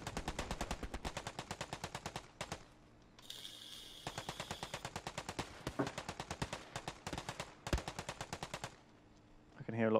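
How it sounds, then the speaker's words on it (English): Machine gun fire in the WWII shooter Hell Let Loose, long rapid bursts with a short pause and a faint distant tone, loud and close, then more bursts, with a brief voice at the end. "Hear a lot of gunfire in the trees."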